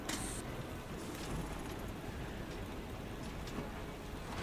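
Steady, dense rain hiss in the video game Parkitect fills the whole stretch, a constant wash of patter with no voices.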